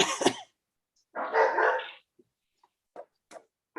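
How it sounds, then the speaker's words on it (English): A house dog barks during an online meeting, one loud close bark followed by a few short, fainter yips and huffs scattered through otherwise quiet seconds. "That was the dog barking."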